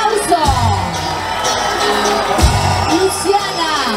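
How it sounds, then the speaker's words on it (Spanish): Loud crowd noise at a carnival representative election, with cheering, whoops and shouts over a dense din, plus a couple of sharp bangs. "Fuerte el aplauso"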